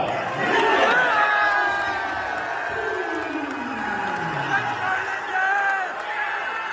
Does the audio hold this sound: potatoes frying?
no